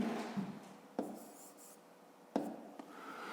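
A pen writes an answer by hand on paper during a fifth-grade maths exercise, giving soft scratchy strokes with a few sharper taps, close and quiet.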